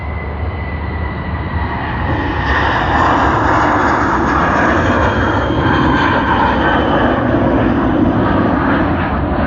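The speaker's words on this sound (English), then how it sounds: "we dedicate this departure of ANA All Nippon Airways to one and only Hapsy" An ANA All Nippon Airways jet departs Sydney Airport, its engine roar loud and close, swelling after the first couple of seconds into a sustained, powerful rumble with no voices over it.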